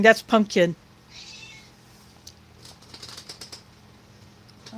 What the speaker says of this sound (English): If you hear any meowing,